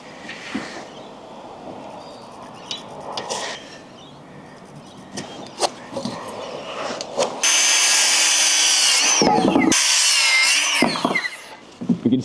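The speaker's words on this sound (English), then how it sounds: "I'm just going to cut the two at 1210 out of these studs here." A power saw cuts through timber wall studs in short bursts, followed by a long, loud sustained cut and a second one, with knocks and handling of wood between cuts, close and without talk.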